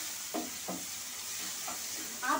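Tomato and green chili sautéing in a pan, a steady soft sizzle under a few brief scraping stirs spaced about a second apart.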